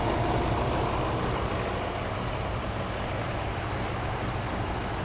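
A 1967-76 Cadillac V8 with a Quadrajet carburetor idling smoothly, a steady loud rumbling drone close up with no variation for the whole stretch.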